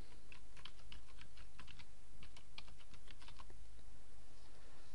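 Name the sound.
typing a domain name on a computer keyboard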